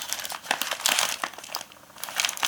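A small boat-shaped pouch made of baking paper is handled up close, giving sharp bursts of crinkling in uneven clusters with brief quieter gaps and no speech.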